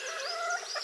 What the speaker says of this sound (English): So I'm in the chicken area